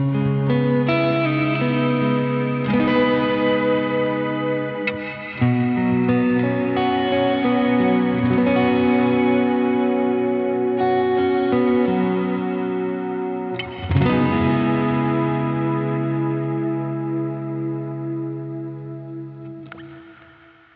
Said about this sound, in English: And when you combine that with the delay, of course, it's going to sound even bigger.